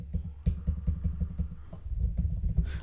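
Clicking and typing on a computer keyboard, close and fairly loud, a quick irregular run of sharp key taps, a bit muffled, with no speech over it.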